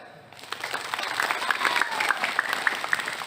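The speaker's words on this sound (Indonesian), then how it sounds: "Tepuk tangan." Audience at an outdoor religious gathering for the Prophet's birthday and army anniversary breaking into applause that swells after a brief quiet start and stays dense and moderately loud, with faint voices underneath.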